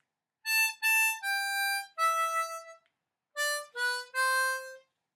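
Harmonica playing the final verse line of a Christmas song, a short phrase of clear separate draw and blow notes in two groups with a pause between, close and solo.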